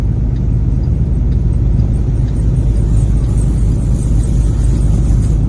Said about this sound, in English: that was the echo coming off my truck, the chains off my truck